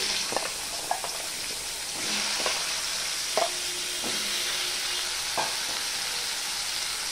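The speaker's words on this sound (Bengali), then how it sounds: "এবার আমি আলুটা দিয়ে দিচ্ছি।" Potatoes go into a frying pan for a small-fish curry, producing a steady hissing fry broken by a handful of light clatters and stirring knocks.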